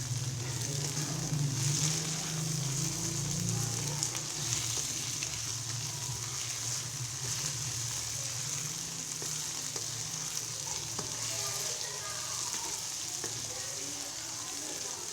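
Okra (bhindi) fries with spices in a pan, giving a constant loud, dense sizzle over a low hum, with occasional faint stirring knocks and no talk.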